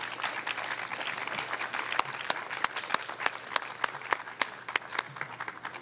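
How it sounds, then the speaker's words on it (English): An audience at a Hispanic Heritage Month kickoff event applauds first responders and essential workers, a steady patter of many hands clapping with sharper individual claps standing out. "please join me in a round of applause for all of our first responders and essential"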